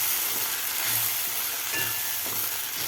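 Masala paste of onion, ginger and garlic sautés in a pan with a steady, close sizzle and hiss, and a few soft stirring scrapes come through now and then.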